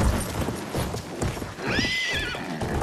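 A horse in the Battlefield 1 video game clip-clops at a gallop and gives a rising whinny midway, with battlefield noise and a faint voice underneath, all close and steady.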